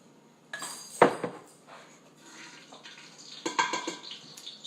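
Coconut oil goes into a cooking pot: a sharp metallic clank, then quieter scrapes and a second cluster of clinks and knocks against the pot, close and otherwise quiet.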